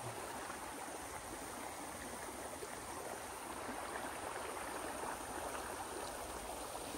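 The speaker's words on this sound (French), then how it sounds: "Je te laisse sur le bruit de l'eau" Flowing water of a natural stream, a steady, dense rushing and babbling wash that stays even throughout, close and unbroken with no voices.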